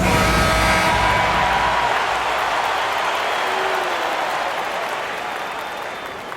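Crowd applause and cheering fill a Lakers home basketball arena during a timeout against the Houston Rockets. The roar is loud and dense at first and then slowly fades away.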